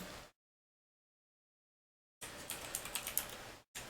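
Brief bursts of typing on a computer keyboard, quick clustered key clicks close to the microphone, separated by a long silent gap, with no talking.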